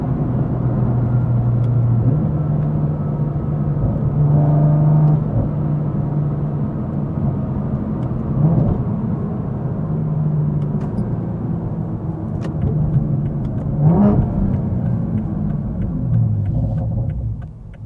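A 700-horsepower 2020 Toyota Supra runs in sport mode, heard from inside as a steady engine drone that rises and falls with gear changes and brief revs, over constant road rumble.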